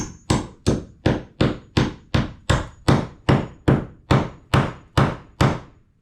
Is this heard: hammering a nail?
yes